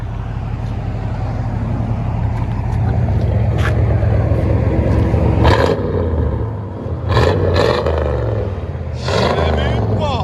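A 1984 Chevy Impala with dual exhaust and straight pipes rumbles loud and deep at idle, swelling with a few throttle blips, while people talk over it nearby.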